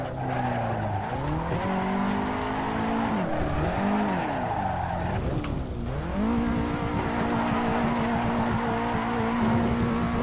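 A rally car in Assetto Corsa screams through the gears, its engine pitch rising and dipping as tires squeal and skid loudly across the whole stretch. No one speaks over it.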